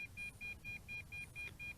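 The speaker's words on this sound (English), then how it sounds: "that is the beeping, continuous beeping. That is the fail-safe return to home." A Holystone HS700D drone controller's fail-safe return-to-home alarm: rapid, regular electronic beeps about every quarter second, a thin high-pitched tone pulsing continuously over faint low background rumble.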